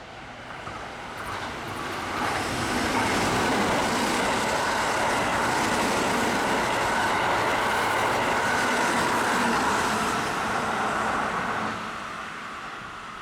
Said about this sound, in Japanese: 3番線の電車は準急淀屋橋行きです